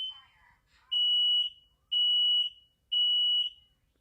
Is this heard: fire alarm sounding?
yes